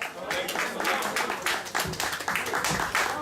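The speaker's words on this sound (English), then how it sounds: "Y'all give a brother another strong round of applause" An audience claps hard in a strong, dense round of applause that rises and falls in waves, loud and close, with voices calling out beneath it.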